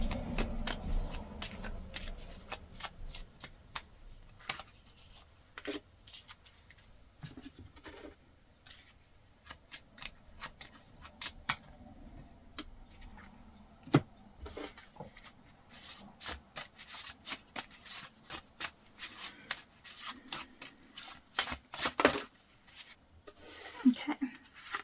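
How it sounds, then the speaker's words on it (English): Oracle cards are shuffled by hand, with repeated quick riffles and soft rubbing scrapes in an irregular rhythm, close and fairly quiet with no talking. "So I'm just going to shuffle those now"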